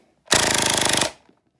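An MP5K gas-powered gel blaster fires one rapid full-automatic burst of about a second, a tight, loud string of evenly spaced cracking pops that stops abruptly, then a faint click follows.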